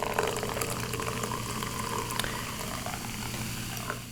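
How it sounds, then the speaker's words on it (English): Blue liquid poured into a container makes a steady, continuous splashing rush that lasts the whole stretch at moderate loudness, with no talking. "what you can do is just pour it into a thing."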